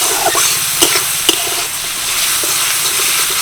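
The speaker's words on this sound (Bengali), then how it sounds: "দিয়ে দিচ্ছি দুটো কাঁচা লঙ্কা কুচি এটাকেও হালকা করে ভেজে নেব" Chopped onion and green chilies fry and sizzle steadily in a pan for a pasta dish made with semolina, with a couple of sharp stirring clicks from a spoon against the pan.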